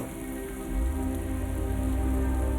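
Steady rain falls across London, a dense, even hiss of drops striking hard surfaces that swells slightly louder partway through and continues without a break, with no voices.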